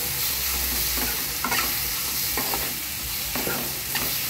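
Vegetables with chopped tomatoes are stirred in a hot cooking pan. A spoon scrapes and tosses them in a few separate bursts over a low, steady frying sizzle, with no voices.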